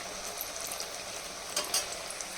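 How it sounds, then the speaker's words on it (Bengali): Eggplant slices fry in a pan at home, a dense, even crackling sizzle close by with a couple of sharper pops, no talking. "এই দেখো বেগুন ভাজা হচ্ছে।"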